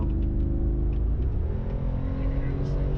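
A Mercedes-AMG G-wagon engine rumbles deep and steady up close, a thick continuous roar with a slight swell partway through.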